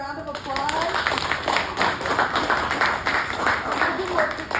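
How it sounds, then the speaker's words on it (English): Audience at a YMCA Youth and Government banquet awards ceremony breaks into brisk, steady clapping that runs throughout, with some voices heard over the applause. "let's give everybody a round of applause."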